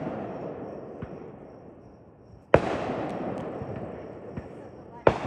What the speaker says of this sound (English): The people with the big fireworks are on the other side of the hill.